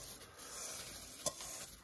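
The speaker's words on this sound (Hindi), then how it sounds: "जी दूध भी उबल गया, अभी डालेंगे हम इसमें सेवैया।" Vermicelli going into a pot of boiled milk for an iftar dish, heard as a soft, steady sizzling and stirring texture with one brief clink near the end.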